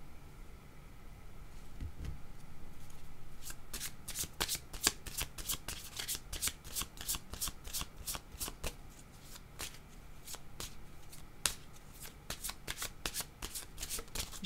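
Tarot cards shuffled close by, a long run of quick crisp riffling flutters following a quieter start, with faint background noise and no talking.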